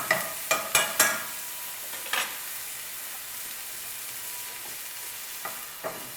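Carne adovada pork for a New Mexican dish frying in a pan, a soft continuous sizzle broken by a few sharp utensil scrapes and taps early on, then settling to a steady hiss.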